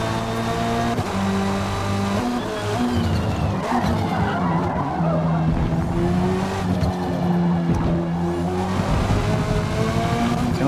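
Mitsubishi Lancer X EVO GSR 2008 four-cylinder engine screaming near 7500 rpm in a racing video game, loud sustained revving with shifting pitch and tire squeal throughout.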